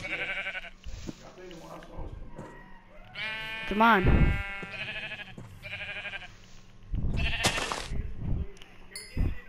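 Sheep in the Minecraft video game bleat in several short wavering calls, one loud and close near the middle, while players talk over and between them.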